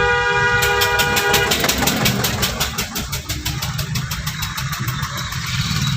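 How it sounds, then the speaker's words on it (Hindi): A car horn blares in one long, steady press for about a second and a half at the start, loud and close, then an engine runs under faint background noise during a driving lesson. "लॉन्ग हॉर्न पुश करो"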